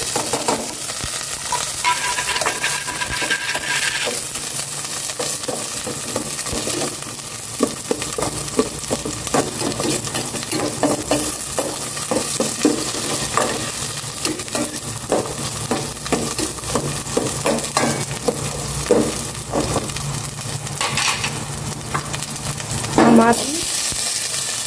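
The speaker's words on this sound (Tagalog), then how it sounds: "Igisa ko na itong bawang." Garlic and onion sizzle steadily in a hot pan, with continuous frying crackle and frequent stirring scrapes and clinks of a utensil against the pan throughout.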